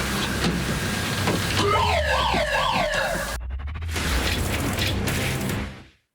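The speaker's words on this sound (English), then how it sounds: "It's the alarm system." A house alarm system wails in a rising and falling electronic siren pattern for about two seconds, surrounded by loud mechanical clatter and noise before a sudden cutoff and fade.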